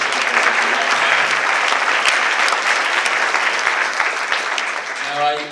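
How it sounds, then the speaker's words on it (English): An audience at a waterfront restoration conference applauds a conservation champion, loud, dense clapping that holds steady for several seconds before a voice begins to speak at the end. "Let me ask you to give Vince Cipolla a round of applause"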